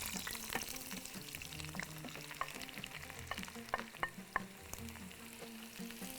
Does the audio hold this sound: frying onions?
yes